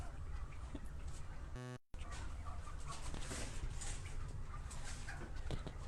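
Heavy tom turkeys on a turkey farm make a dense, continuous chorus of gobbling and clucking from a large flock, steady and fairly loud with a brief dropout near two seconds.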